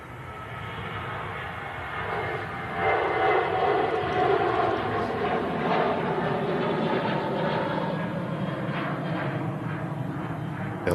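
Engines of an Emirates A380 airliner approaching an airfield, a broad continuous roar that swells slightly and then holds steady, heard from a distance.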